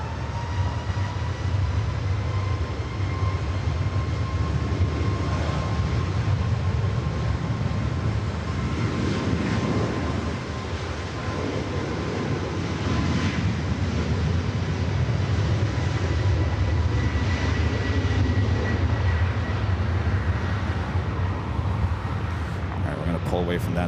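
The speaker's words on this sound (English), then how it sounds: "We also have a Breeze Airbus A320-300 up next for arrival here on the north side." Breeze Airbus A320 airliner arriving at LAX airport, a loud, steady jet engine roar that holds constant throughout, with a voice speaking over it.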